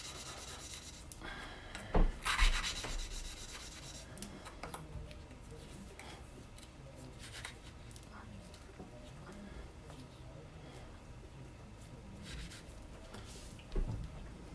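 Valves being lapped on a 1950 MG engine with a suction cup tool, soft gritty rubbing strokes in short bursts, close and fairly quiet, with a couple of sharper knocks near the start and end.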